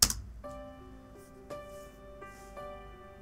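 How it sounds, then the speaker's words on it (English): Bright, plinky electronic keyboard notes from a song ring out in a simple, sparse pattern, with a few sustained chords and light percussive accents. "Get that some rather plinky keyboard sounds."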